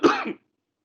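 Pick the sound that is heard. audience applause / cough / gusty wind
cough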